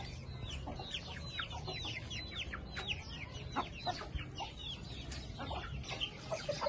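A rooster clucks repeatedly in short, bursty calls at moderate distance, with other birds chirping softly in the background.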